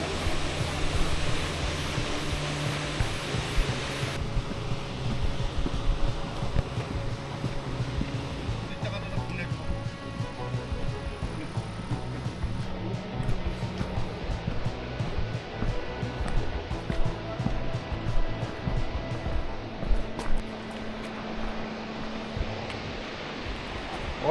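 A roughly 240 m waterfall in a Guangdong grand canyon gives off a steady broadband roar that fills the scene, with people talking faintly over it.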